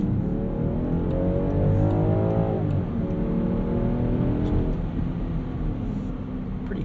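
2024 Land Rover Defender 130 with a 395-horsepower inline-six accelerating hard from inside the cabin: a loud, rising engine note climbs, drops at a gear change, then climbs again as the SUV keeps pulling.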